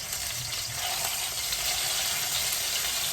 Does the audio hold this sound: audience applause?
no